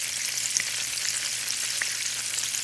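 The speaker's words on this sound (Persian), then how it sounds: "حالا یکی یکی میگوها رو همراه با محتویاتی که داخلش بوده در میارم و توی روغن قرار میدم تا سرخ بشه." Shrimp frying in hot oil give off a steady, dense sizzle and crackle. Faint pops rise here and there, and no one speaks.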